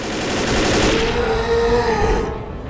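Rapid gunfire crackles densely through a Left 4 Dead firefight as a Tank special infected attacks, with a low growl buried beneath the shots, loud and continuous for a few seconds before thinning out.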